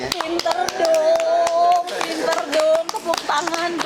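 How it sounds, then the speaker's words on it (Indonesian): Several sharp hand claps in an uneven rhythm, close and crisp, mixed with lively talk and music in the background. "tepuk tangan dong"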